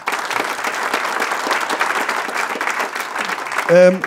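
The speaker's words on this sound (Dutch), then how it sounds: "Mag ik een heel groot applaus voor John en Erno." Audience applause greets two speakers at a local business event, a moderately loud run of many hands clapping that ends as a voice begins speaking.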